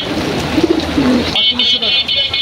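Pigeons coo repeatedly in soft, throaty bursts amid the bustle of the Kaptan Bazar pigeon market on a rainy day, with a steady background murmur of crowd noise and a brief break partway through.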